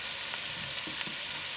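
Onions and carrots sauté in olive oil, a steady close hiss and crackle of frying with faint soft stirring underneath.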